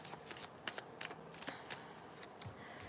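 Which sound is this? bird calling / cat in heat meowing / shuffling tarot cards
shuffling tarot cards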